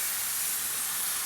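Hot steam hisses steadily and close while vatta fish masala cooks, a brief unbroken sizzling rush with no voices over it.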